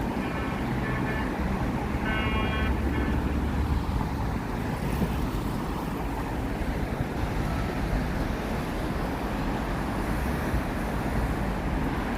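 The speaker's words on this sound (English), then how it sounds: "it's a few lanes of cars, like 3-lane pathways going up and down this kind of parkway" Steady roar of road traffic on Brooklyn's Ocean Parkway, a multi-lane parkway with about three lanes of cars each way, heard as a continuous dense wash of passing vehicles at moderate distance without talk.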